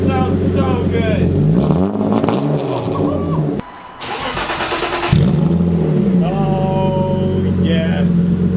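Loud BMW E36 325i with a muffler delete, engine revving hard in bursts with rising and falling pitch, a brief dip mid-way before climbing again; people talk over it.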